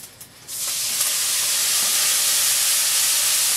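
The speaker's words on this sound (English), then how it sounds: "the pan's starting to sizzle a little" Onions hit a hot pan, starting a loud, steady sizzling hiss abruptly that continues without a break, close up with no talking.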